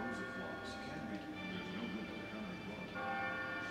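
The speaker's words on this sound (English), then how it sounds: "Here is the bell! I hear it now." In the video game Catherine, a bell rings with a few clear chimes that stand out against a steady musical background while someone talks over them.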